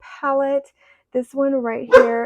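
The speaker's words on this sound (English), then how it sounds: "So sorry, that was my dog." A pet dog barks and whimpers briefly near the microphone, the yelps overlapping someone talking indoors.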